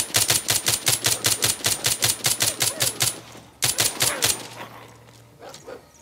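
Rapid automatic gunfire from the zombie shooter video game The Walking Zombie 2, a fast even burst of loud shots for about three seconds, a short pause, then a second shorter burst fading into quiet.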